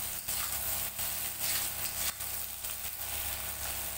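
Bitter melon and potato pieces frying in spices in a pan, a steady close sizzle with faint stirring, no voices.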